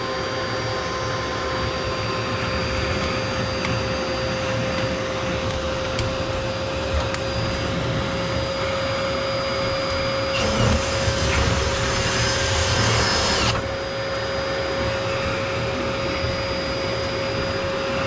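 Steady, loud vacuum cleaner drone during sweeping of a tarry chimney flue with a cable loop, humming continuously with a short louder rushing surge partway through.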